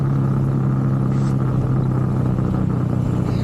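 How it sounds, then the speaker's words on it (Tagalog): Dense road traffic in Manila near Manila Bay, with cars queuing and building up ahead. It comes across as a steady, loud, low engine rumble that carries on throughout with no speech. "Mukhang medyo matraffic. Kaya nabibuild up na yung mga sasakyan no, sa harapan."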